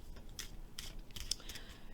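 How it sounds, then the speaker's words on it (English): A deck of oracle cards being shuffled by hand, a run of quick, crisp papery riffles and slaps in irregular bursts, close and quiet with no talking. "while I'm shuffling this deck, I'm going to be looking at the cards in front of us here"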